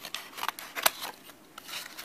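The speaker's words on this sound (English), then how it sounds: "That's your scissors." Scissors snipping an egg carton for a children's crab craft, giving a few quick, close, crisp cuts and rasps with one sharp snip in the middle.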